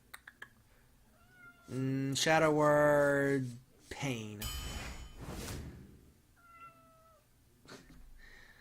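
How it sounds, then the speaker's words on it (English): A pet cat meows loudly and close by in a room, with a long drawn-out cry followed by shorter calls, while a person briefly speaks and faint game sounds chime in the background. "My cat's just standing here meowing at me."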